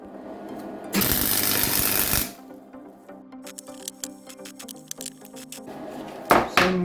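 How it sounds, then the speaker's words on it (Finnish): Welding a mounting bracket onto a homemade clay pot heater sets off a harsh, crackling buzz that lasts about a second, then gives way to quiet scattered clicks, taps and a final sharp metallic rattle. "Hitsataanpa tuohon nyt ensin tuo kiinnitys."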